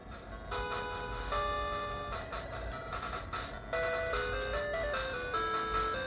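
A bright, synthetic melodic jingle plays continuously with sustained tones stepping up and down, fairly loud and without talking.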